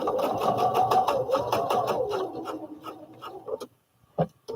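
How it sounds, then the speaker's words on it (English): A sewing machine stitches down the top piece of a baby fall-protection pillow, its rapid rhythmic clatter running close and steady before stopping abruptly, followed by a couple of quiet clicks. "I'm just going to sew that top piece down real quick."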